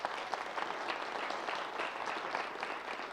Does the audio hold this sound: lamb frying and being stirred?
no